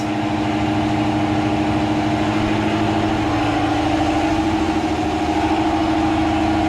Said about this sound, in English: Then kick on your real noisy air compressor.